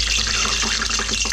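Water splashed into warming frying oil sets off a loud, steady crackling sizzle with dense spitting pops, close by and continuous throughout, with no voices.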